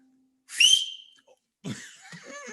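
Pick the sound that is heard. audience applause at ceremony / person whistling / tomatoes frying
person whistling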